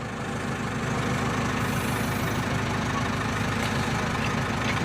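A tractor engine idles steadily and loudly nearby while loading an electric pole with a JCB, a constant low rumble with a dense noisy roar and no breaks.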